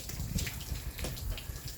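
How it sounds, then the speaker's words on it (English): Hot water gushes from an outlet on a boat in a steady, close splashing flow that stays fairly constant, with no voices. "Hot water coming out of there."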